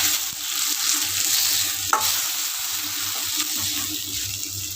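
Tomatoes with spice powder sizzle and are stirred in a pan while making mint chicken pepper rasam, a steady close frying hiss with scraping spoon strokes and one sharp clink.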